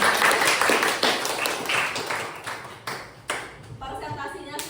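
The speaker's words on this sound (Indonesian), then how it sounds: "Ya, tepuk tangan untuk kelompok." A class claps for a student group after its presentation, with a burst of scattered handclaps that fades over a few seconds amid room noise.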